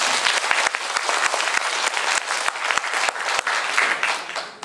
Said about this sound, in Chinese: 所以我们给这个协会的诞生一个热烈的掌声，好不好？